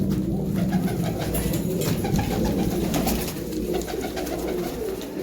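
Pigeons cooing continuously at close range in a loft, soft overlapping throaty coos layered over steady background rustle and ambience throughout.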